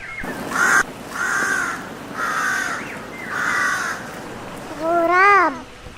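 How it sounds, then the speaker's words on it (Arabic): A crow caws four times in a steady rhythm, loud and near, followed by a rising, wavering cry at the end, with a constant noisy background. "غراب."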